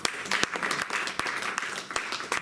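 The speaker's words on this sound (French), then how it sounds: "Acclamez la parole de Dieu." A church congregation at a seminar in Nancy breaks into applause, a dense burst of clapping that stays steady and fairly loud across the short clip.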